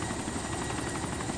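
A helicopter in the video game DayZ Overpoch thrums steadily and loudly nearby, its rotor chop forming a continuous pulsing roar with no talking.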